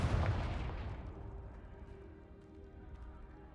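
A Confringo fire spell cast in Hogwarts Legacy bursts with a heavy, booming blast at the start and then fades into a long rumbling tail of crackle and room echo.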